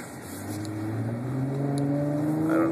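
A 2011 Dodge Challenger with a V6 engine accelerates hard from inside the cabin, its engine note rising steadily in pitch and loudness over a few seconds without talk.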